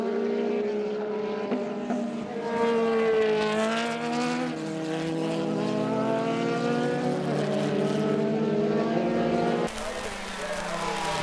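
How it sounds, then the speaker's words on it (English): A Duratec-powered Formula Ford race car at Carco Raceway, its engine note rising and falling through gear changes as it passes, loud and sustained for several seconds. "Lance Carwadine and car number 7, the Duratec-powered Formula Ford"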